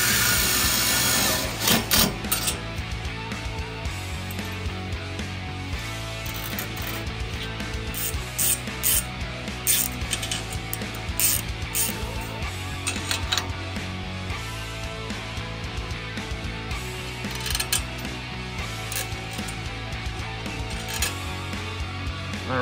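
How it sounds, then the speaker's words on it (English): Nylon lock nuts cranked down onto bolts of a custom license plate bracket on a cooler carrier trailer, with a wrench's ratcheting clicks in repeated bursts and pauses over about twenty seconds, close and fairly steady. "So now we're gonna crank down these, they call them aviation nuts, nylon nuts, to lock these in place."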